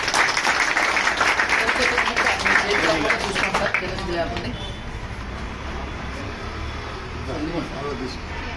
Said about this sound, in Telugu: క్లాప్ అందరూ మళ్ళీ ఒకసారి